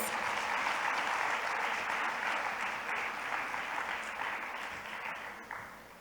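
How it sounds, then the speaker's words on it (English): A forum audience applauds panelists after a tourism leadership panel session, a warm, sustained wash of many hands clapping that holds steady for several seconds before easing slightly toward the end. "Can we please offer them a warm round of applause?"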